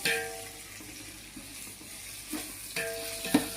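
Ginger garlic paste stirred as it fries in a pan, a continuous close sizzle with soft scraping strokes of the spoon and a few sharper scrapes near the end.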